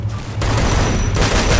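Shotgun blasts in a shooter video game, loud close booming bursts run together into a dense roar of gunfire for under two seconds.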